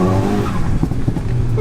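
A VW Golf GTI-R launches hard off the mark, its engine loud and close with rising induction noise and a brief scrabble of tyres.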